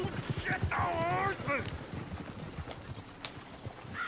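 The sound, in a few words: horse moving and stamping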